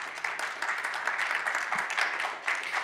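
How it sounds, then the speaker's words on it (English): Audience at a higher education savings plan workshop claps for two presenters, a steady, dense round of applause filling the room at moderate loudness throughout. "I want to give Troy and Abraham a big round of applause"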